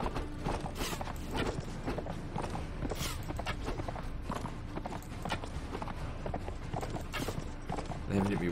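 Hooves clip-clop in a steady trot alongside creaking tack and game ambience in Mount & Blade Imperial Rome, moderately close, with no clear talk over them.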